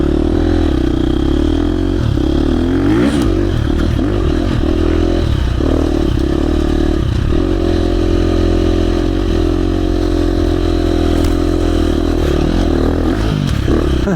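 A KTM 350 dirt bike is ridden through the woods, its engine loud and close for the whole stretch with shifting revs. Clattering and scraping from the rough trail run underneath the engine.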